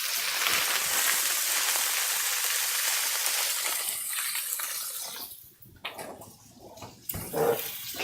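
Water poured into a hot pan of yakisoba noodles, hissing and sizzling loudly in a broad steamy rush that fades, followed by quieter scraping and stirring.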